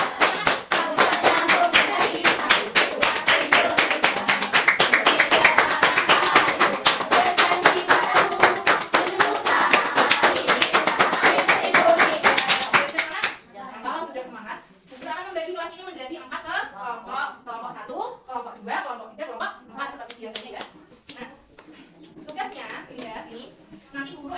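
A school class claps in steady rhythm while singing a song, the brisk clapping loud and close for about thirteen seconds before giving way to spoken talk.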